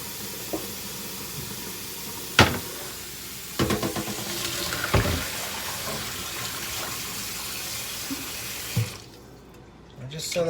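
Water runs from a kitchen faucet while a dish is rinsed in the sink, a steady hiss with occasional clatters of dishware, ending abruptly near the end.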